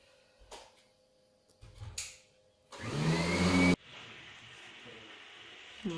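A vacuum cleaner motor roars loudly for about a second amid quieter handling noises and clatter, then cuts off, leaving a low room hum.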